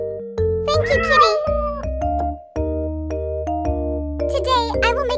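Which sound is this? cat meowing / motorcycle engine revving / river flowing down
cat meowing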